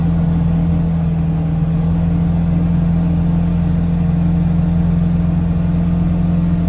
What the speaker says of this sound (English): This is the well motor,